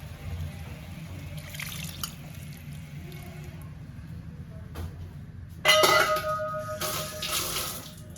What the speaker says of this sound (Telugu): ఇప్పుడు చింతపండు పులుసు చింతపండు పులుసు పోస్తాను